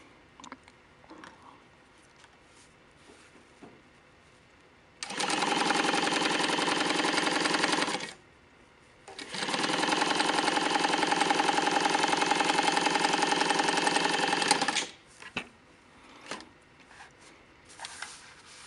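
A Juki DU-1181N industrial walking foot sewing machine test-stitches on scrap fabric in two loud, steady runs, about three seconds and then six seconds, with a short pause between and quiet handling noises before and after.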